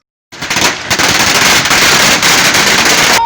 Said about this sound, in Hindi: लोगों में मिठाइयां बांटी गई, इसके साथ ही पटाखे भी फोड़े गए।